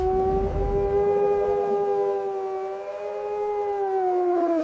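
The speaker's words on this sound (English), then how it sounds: "Wolf." A wolf howls in one long, clear, sustained note that slides gently in pitch and falls away at the end. The howl is close and loud.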